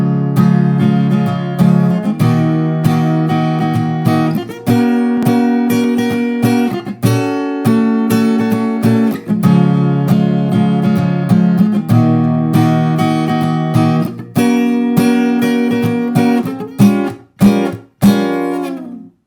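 Acoustic-toned guitar strums a steady chord progression, loud and close with rhythmic strokes and brief chord changes, ending in a few quick muted hits.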